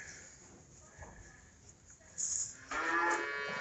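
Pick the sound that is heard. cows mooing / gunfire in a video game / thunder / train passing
cows mooing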